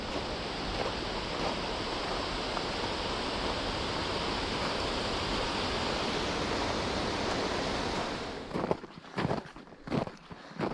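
Steady broadband rush of running water near Camaldoli in the snow, loud and continuous for about eight seconds, then breaking into uneven crunching steps and movement as the flow recedes.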